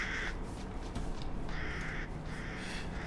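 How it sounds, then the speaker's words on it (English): Crows in the video game Resident Evil Village give several harsh caws in separate bursts over a quiet, low ambient backdrop. "Damn crows."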